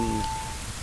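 Steady rain in the Zelda game Majora's Mask, a soft continuous wash of falling drops with a brief tone near the start, no talking.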